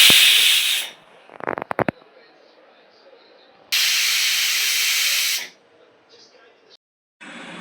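A pressure cooker holding jackfruit seeds with salt and dried red chillies vents steam in two loud, sharp hissing bursts separated by quieter gaps and a short rattling flutter.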